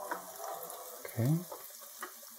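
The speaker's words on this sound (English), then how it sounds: "they're definitely sizzling away now" Buffalo chicken wings sizzle in a hot air fryer, a steady low crackle that runs throughout, with a brief louder burst of frying noise in the middle.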